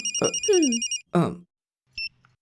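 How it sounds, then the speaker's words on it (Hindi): A telephone rings in two electronic bursts, then a short high beep follows; a voice speaks briefly over the first ring. "Madam phone."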